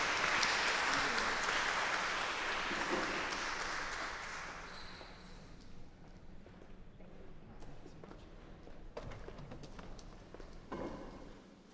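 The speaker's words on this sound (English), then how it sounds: "please give a round of applause for Cole, Walter, and Alison" Concert audience applause inside St. James Cathedral: a broad, reverberant clapping swell at the start that gradually thins and fades, leaving scattered claps, shuffling and faint room noise.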